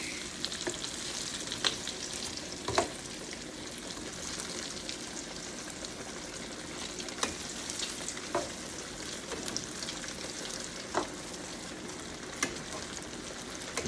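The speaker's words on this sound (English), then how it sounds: "this pan is a lot hotter and it's frying faster" Eggplant slices fry in a very hot pan with a steady, dense sizzle, broken by scattered sharp pops and crackles throughout, close by and with no talk.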